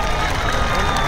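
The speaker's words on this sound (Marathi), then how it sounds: "टाळ्या करा की त्याच्यासाठी" Audience at a Bhima Kesari 2024 wrestling bout applauding and cheering, a dense, steady wash of clapping and crowd noise filling the whole moment at close range.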